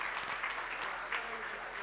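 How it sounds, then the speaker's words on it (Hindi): An audience applauds at an ashram gathering, with soft, steady clapping and a few sharp louder claps near the start. "तालियां जोरदार इनका अभिनंदन,"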